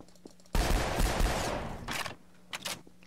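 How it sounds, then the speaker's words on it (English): Rocket launcher from Halo fired in Garry's Mod on a horror map: a loud, sudden blast with a long rumbling explosion tail lasting over a second, followed by a couple of shorter, fainter bursts. "I shoot it with a fucking rocket launcher from Halo"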